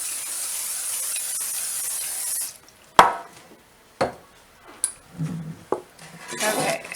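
A long hiss of spray fades out, followed by sharp clatters and knocks of a pan and utensils against a surface.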